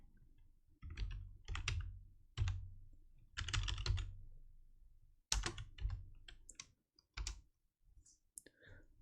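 Quiet typing on a computer keyboard comes in irregular close-up bursts of clicky keystrokes separated by brief pauses.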